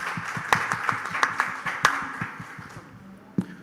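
Scattered hand claps from a small audience at a forum, a dozen or so sharp claps fading out over a few seconds with a last lone clap near the end.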